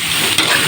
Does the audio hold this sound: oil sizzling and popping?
yes